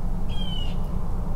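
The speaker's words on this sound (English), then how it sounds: "Y'all can hear the birds out today. They're really chirping." Single short bird call outdoors around dinner time, a thin high whistle-like note of about half a second, heard moderately close over steady broadband background noise.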